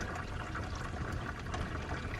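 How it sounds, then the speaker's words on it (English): Water leaking into a car and dripping fast onto the floorboard, heard as a steady wash of splashing, trickling water close by, continuous throughout with no talking. "She's dripping pretty fast too."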